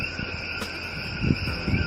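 Coquí frogs call at night in Puerto Rico as a steady, high, ringing chorus of overlapping tones. It is moderately loud and continuous, with a few low rustles underneath and no voices.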